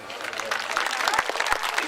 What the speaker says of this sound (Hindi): इस पे ताली कम बजा रहे हो क्या बात